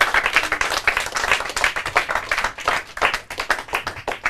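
A quiz-finals audience claps for a team, a modest round of applause with individual hand claps distinctly audible in an uneven, pulsing rhythm.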